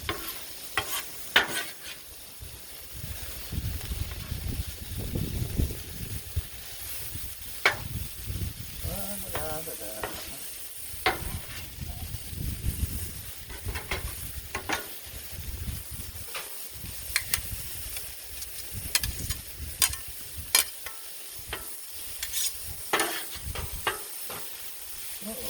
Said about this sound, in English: Let's go ahead and give everything a good stir here.